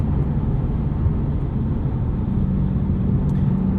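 A 2016 Ford Mustang Shelby GT350 cruising through city streets, its engine a steady, loud low rumble that holds an even drone throughout with no voices present.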